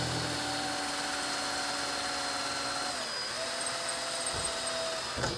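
A drill bores a pilot hole in a metal skid plate up close. A steady, fairly quiet whine holds, dips slightly in pitch partway through, then ends with a brief clatter.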